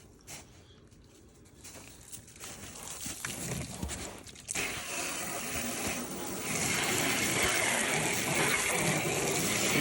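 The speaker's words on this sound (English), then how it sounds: "Now I'm going to hose them down." A freshly plucked turkey being hosed down on a homestead, with a steady spray of water that builds into a continuous close rushing gush, joined by patter and splashing.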